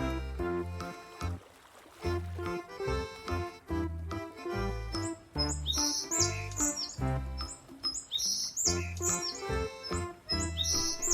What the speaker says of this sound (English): How freely these colorful birds are flying from one tree to another.